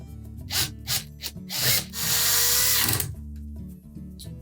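Power drill driving mounting screws into the wire lid hinge of a Whirlpool washer: several short whirring bursts, then one longer sustained run as a screw seats, close and loud with no talking.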